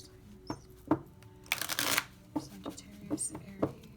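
Tarot cards shuffled by hand in a series of soft riffling bursts and taps, including one longer flurry, close by and with no speech over them.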